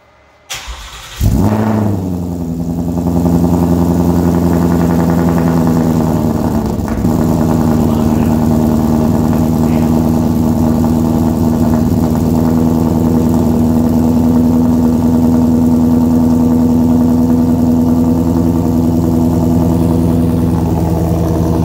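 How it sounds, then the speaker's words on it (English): A Ford Mustang engine cold-starts with a quick crank and catch, then settles into a loud, steady, droning idle through a quieted exhaust, with a slight dip partway through. "do a cold startup, same distance as before from the last test. And we'll let it idle down, and I'll do a couple revs"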